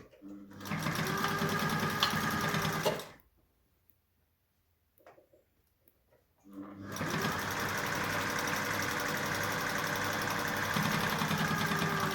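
A sewing machine top-stitches the folded edge of a fabric face mask, whirring loudly and steadily up close, stopping for a few seconds of near silence with a faint handling sound, then running again continuously.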